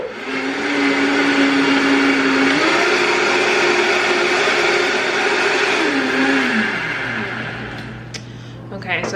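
A Vitamix blender runs with water and a few drops of dish soap to clean nut butter residue from the bottom, a loud, steady close whir with slight pitch shifts that eases down near the end.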